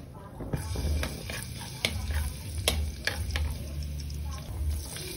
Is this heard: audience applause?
no